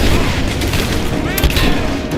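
Cover fire in the action game Rise of the Tomb Raider, a dense, loud stretch of booming gunshots and bursts with overlapping battle noise and voices shouting through it.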